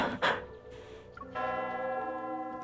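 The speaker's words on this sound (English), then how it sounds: "The bell startles the doves and they fly into the air." A bell rings out in a romantic scene of the Love and Deepspace video game, with a sustained, ringing tone that fills the clip alone after a brief soft onset, no talk over it.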